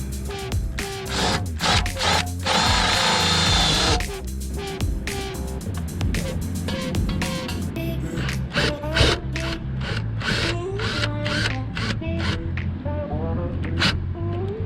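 A power drill drives screws into a van roof while a roof vent fan is installed, with repeated bursts of close mechanical whirring and ratcheting, one longer steady run, and clunks and knocks between.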